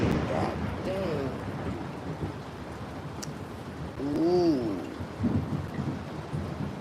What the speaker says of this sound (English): Lightning just hit something, y'all.